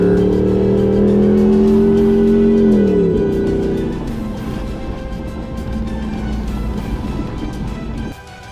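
A Jeep Rubicon 392 charges fast along a dirt trail, its loud engine roaring with a rising pitch that drops at a gear change, then pulls on steadily through rough rumble before easing off abruptly.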